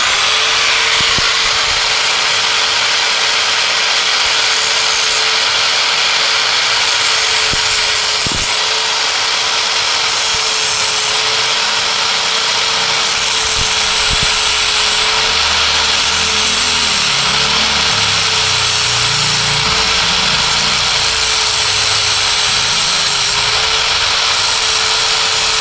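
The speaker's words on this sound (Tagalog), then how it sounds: "Yung ating grinder." Grinder running steadily for the whole stretch while working on a brake switch, a constant high-pitched motor whine with a gritty, hissing grinding noise on top, loud and close, with occasional clunks.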